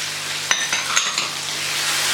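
Ginger garlic paste and green chillies frying with tomatoes in ghee for a fish curry, a close steady sizzle broken by a few sharp stirring scrapes and clinks of a spoon against the pan.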